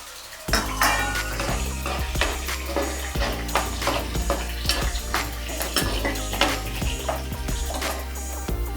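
Curry leaves hit hot oil in a pan for mango pulihora and sizzle steadily. A spoon clinks and scrapes against the metal as they are stirred and fried, up close with no talking.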